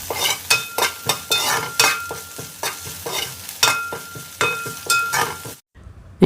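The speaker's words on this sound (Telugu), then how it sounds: "మళ్ళీ అదే బౌల్లో ఇంకొక స్పూన్ ఆయిల్ వేసి కరివేపాకు వేయించుకుంటున్నాను" Curry leaves frying in a spoonful of oil in a bowl, a steady sizzle broken by repeated scraping and clinking strokes of a spoon against the bowl, close and clear, ending in a brief pause.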